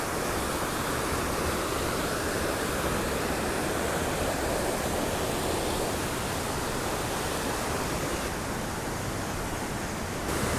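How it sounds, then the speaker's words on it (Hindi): Bahubali waterfall at Bhandardara hill station in Maharashtra gives a steady, dense broadband roar of falling water that stays even and unbroken throughout, with no voices. "तो सामने हमें दिख रहा है बाहुबली वाटरफॉल"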